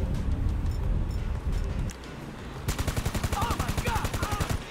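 Rapid bursts of gunfire in the video game GTA 5, an earlier scattered exchange giving way to a steady, evenly spaced automatic volley in the second half, with brief talk at the start.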